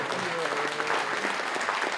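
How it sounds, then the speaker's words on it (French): Applause from a crowd at a volunteers' evening for a football club, dense steady clapping blended with murmured talk and a voice underneath. "Ça mérite bien des applaudissements et une petite gorgée."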